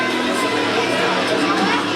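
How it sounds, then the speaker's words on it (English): Steady murmur of a wrestling crowd at a New Heights Wrestling show, a broad continuous wash of chatter and noise holding at an even level for the whole stretch, with no single voice rising clearly above it. "Is this as loud as a New Heights wrestling crowd gets?"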